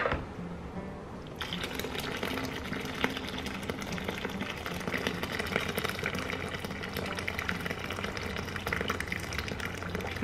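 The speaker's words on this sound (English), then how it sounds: "And then I'm gonna put the boiling water in." Boiling water pours steadily from a kettle into a container for dyeing cotton yarn, a continuous gurgling rush that brightens after the first second and runs unbroken to the end.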